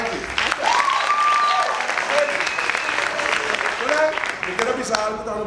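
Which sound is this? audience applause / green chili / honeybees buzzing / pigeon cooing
audience applause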